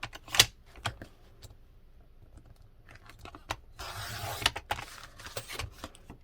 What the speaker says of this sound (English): We'll trim the flap by just a hair, yeah?